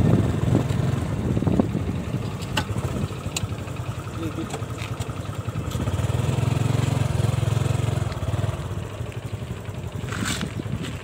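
Yamaha NMAX version 2 scooter engine humming during a test ride, rising to a louder steady drone midway, with a person talking over it and occasional knocks.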